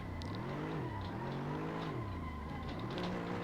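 Race car engine in Assetto Corsa, loud and steady, with pitch swooping down and back up as the driver downshifts to second under braking, revs blipping between gears, no talk.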